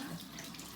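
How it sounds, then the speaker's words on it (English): Tap water runs into a sink while makeup brushes are about to be washed, a steady close splashing rush filling the whole moment with no voices. "I'll just turn the water on"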